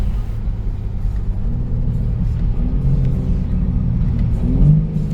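Green BMW M3 Competition rolling into the pit, its engine a steady close rumble with a brief rising rev partway through, heard alone without talk.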